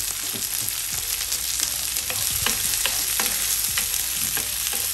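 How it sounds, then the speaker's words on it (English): Tomatoes frying in a pan while being stirred for loaded fried plantain, with a steady close sizzle and repeated scraping, knocking strokes of the spoon throughout. "Just gonna mix this around."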